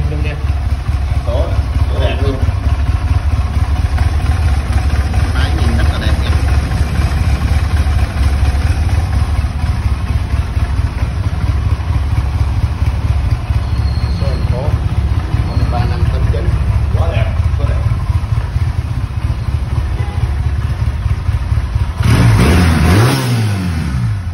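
A silver Honda LA 250cc motorcycle engine runs steadily throughout with a continuous low rumble and occasional revs, close and loud, with someone talking over it.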